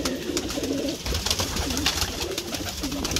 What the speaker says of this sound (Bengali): বাচ্চা পায়রা এইগুলো